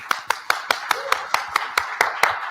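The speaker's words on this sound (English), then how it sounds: "Let's give a big round of applause." Hand clapping at a business conference on stage: a steady run of about a dozen sharp, evenly spaced claps, close and distinct, with no voices over them.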